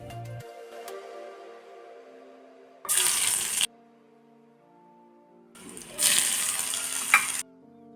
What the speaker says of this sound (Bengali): লাউয়ের চোকলাগুলো রেখেছিলাম, সেটাকে একটু বেগুন পেঁয়াজ দিয়ে ভাজা করছি